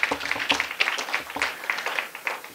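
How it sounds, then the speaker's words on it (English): Lecture audience members clap in a brief, fairly faint patter of hand claps at a steady pace, heard from a distance for a couple of seconds. "So I would like you to give yourself a round of applause at this point in time."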